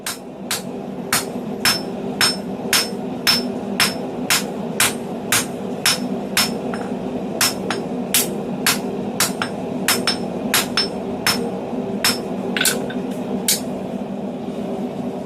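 Hand forging hammer blows squaring the upset end of a tong blank for diamond-jaw blacksmith tongs, a steady run of about two dozen sharp ringing strikes on the anvil over a low background hum.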